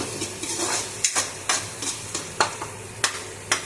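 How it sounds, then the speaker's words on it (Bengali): A paste of onion, garlic, ginger and chili sizzles loudly in a pan after fritters were fried, with a spoon scraping and tapping the pan in a regular rhythm about every half second. "এখানে পেঁয়াজ রসুন আদা লঙ্কা সব বাটাটা একবারে দিয়ে দিয়েছি"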